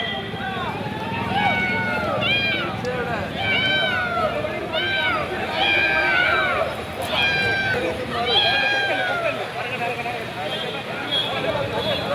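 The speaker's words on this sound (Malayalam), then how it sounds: "കൊച്ചി മെട്രോ പില്ലറിൽ ഒരാഴ്ചയായിട്ട് കുടുങ്ങിക്കിടന്ന പൂച്ചയെ ഒടുവിൽ രക്ഷപ്പെടുത്തി" A cat stranded on a Kochi Metro pillar is rescued, with repeated short meows rising over outdoor noise and wind as people talk throughout.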